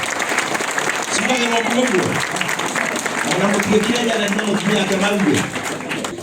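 Applause from an event crowd for a patron's donation of 100,000 Kenya shillings, clapping swelling and easing over several seconds with voices talking over it throughout.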